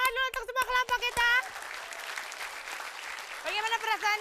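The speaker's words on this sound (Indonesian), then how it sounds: "Tepuk tangan dulu untuk semua kelompok kita." A studio audience at an Indonesian TV comedy show applauds all the groups, with steady clapping in the middle stretch while a host's voice talks over it at the start and end.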